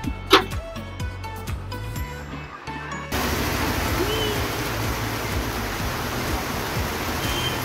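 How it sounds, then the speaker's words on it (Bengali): Heavy rain beginning in the Sundarban mangrove forest. After a few seconds of scattered clicks and knocks, a loud, continuous downpour suddenly sets in and keeps drumming steadily close by. "জোর বৃষ্টি শুরু হয়ে গেছে।"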